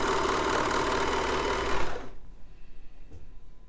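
A Britannia overlocker or coverstitch machine stitching slippery organza fabric, a loud steady rapid whirring hum that stops abruptly about halfway, followed by quiet room noise with faint clicks.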